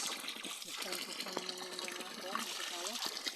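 Spring water on a farm bubbles and trickles steadily nearby while a person talks over it.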